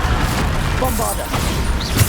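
In the PC game Hogwarts Legacy, a Bombarda spell sets off a short, booming explosion with crashing debris, layered over busy combat effects in a brief burst.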